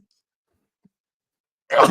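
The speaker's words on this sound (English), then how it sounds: "hang on, I'm going to sneeze in a second" A single sneeze bursts out loudly and abruptly after near silence, close to the microphone, and is over in a fraction of a second.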